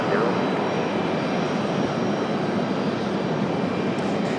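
Jet airliner roaring down the runway on takeoff at Raleigh-Durham International Airport during a Fourth of July celebration, a steady broad rumbling wash heard from a distance.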